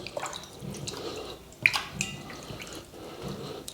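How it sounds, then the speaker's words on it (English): Water splashes and drips in small, scattered bursts as fingers scoop it into the opening of a sausage casing filled with sweet Italian sausage meat, faint and close. "scoop up a little bit of water"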